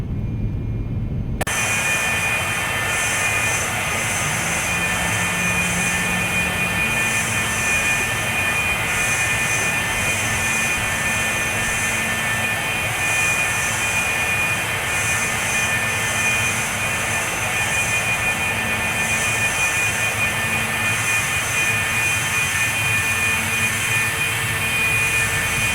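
Steady, loud jet engine roar of a Cessna Citation II climbing after takeoff in the X-Plane 11 flight simulator, a continuous broadband drone with a high whine running unbroken throughout, with no talk over it.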